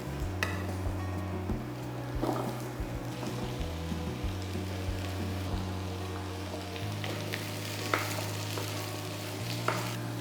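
Sweet potato and carrot pieces get stirred in hot oil, a soft sizzle with scattered scrapes and taps beneath a steady low hum, fairly faint and without speech.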